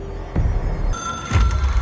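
A telephone rings in the video game Control, an object of power with no ordinary network. Two short rings sound at moderate loudness over a low hum, with no talk.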